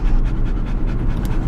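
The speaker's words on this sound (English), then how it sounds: "Sorry about the panting." A dog panting loudly and steadily right beside the microphone inside a moving Ford car, quick rhythmic breaths over low road rumble.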